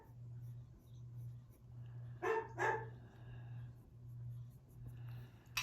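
A dog across the street barks twice in quick succession through an open window, the barks fairly distant against a steady low hum, with quiet room noise after.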